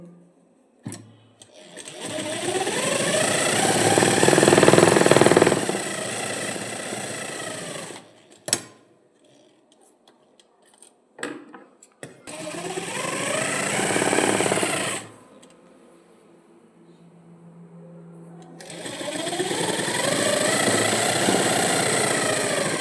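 A sewing machine stitches fabric in three loud, close bursts of whirring motor and needle chatter, separated by quiet gaps with a few clicks and handling sounds.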